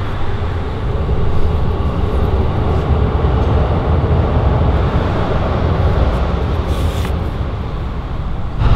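Steady, loud rumble of a train passing close overhead on a Tokyo street beneath the tracks, a continuous low roar with rattling that holds for the whole stretch.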